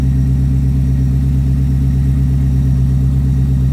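A C4 Corvette engine running with no mufflers, exhaust open from the mid pipe, gives a loud, steady low rumble at idle close by, holding level throughout with no talking.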